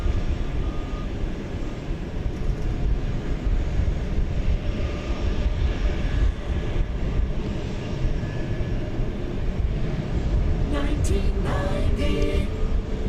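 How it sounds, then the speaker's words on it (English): A UPS Boeing 757 jet taking off at DFW Airport, heard as a steady, broad, distant engine roar that holds level throughout, with faint clicks near the end. "that's a UPS 757 off to where else? Louisville."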